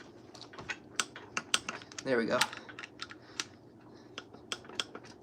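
Torque wrench on a Plymouth engine rebuild gives a brief burst of rapid ratcheting clicks as a bolt is tightened to torque, amid sharp scattered tool taps, with a voice speaking briefly.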